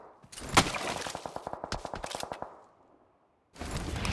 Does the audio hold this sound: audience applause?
no